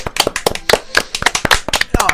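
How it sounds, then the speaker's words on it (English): A small group gives a short round of applause, loose uneven claps at close range with scattered voices mixed in. "we should start with a round of applause for Liam for doing that intro"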